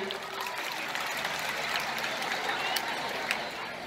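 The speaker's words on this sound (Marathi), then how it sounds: "टाळ्या वाजा सगळ्यांसाठी" Students clapping together at a school prize-distribution and farewell event, a dense, steady wash of applause filling the whole stretch at even loudness.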